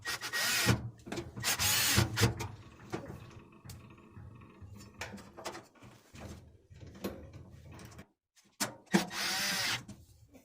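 A power drill tightens a screw on the terminal block of a 3-wire dryer cord, with short whirring bursts at the start and end and quieter clicks and handling sounds between.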